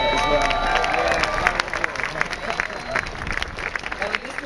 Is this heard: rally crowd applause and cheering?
yes